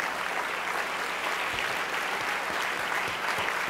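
A conference audience at a business leaders summit claps steadily, a dense, even wash of applause filling the hall throughout.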